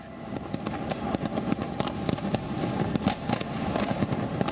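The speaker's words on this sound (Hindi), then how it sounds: "ताइवान की सबसे ऊंची इमारत इस तरह आतिशबाजी और जगमग पटाखों के बीच रोशन नजर आई।" Dense New Year fireworks and firecrackers over Taipei, Taiwan, near the city's tallest building: rapid overlapping cracks and pops with heavier booms, sustained and loud throughout without a break.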